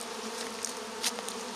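A soft, steady buzzing of many honey bees hums close by as hive frames are inspected, with a few brief louder passes as individual insects fly near.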